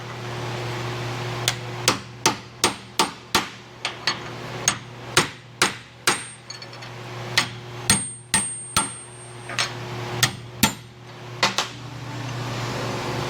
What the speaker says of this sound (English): I hammered that through on the wrong end.